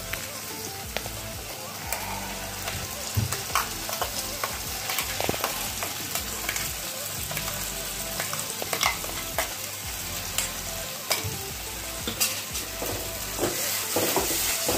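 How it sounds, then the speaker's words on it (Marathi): Ground masala paste fries in oil in a pan for mutton sukkha, a steady dense sizzle with frequent scraping stir strokes throughout, close and continuous with no talking. "मिक्स करून घ्यायचा हा मसाला थोडस तेल सुटेपर्यंत भाजून घ्यायचा"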